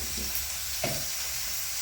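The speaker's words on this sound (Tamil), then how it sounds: "ஒரு துண்டு இஞ்சிங்க எல்லாம் ஒட்டுக்கா போட்டு வறுத்துக்கலாம்." Ginger pieces and a few garlic cloves frying together in a pan, a steady close sizzle and hiss with a brief stirring scrape near the middle; no talk.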